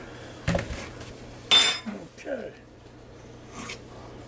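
A metal fork jabs into a baked potato being prepared for a Ninja Foodi grill, giving a few short clinking, scraping taps against the plate or pan at close range, spaced apart and separated by quiet moments.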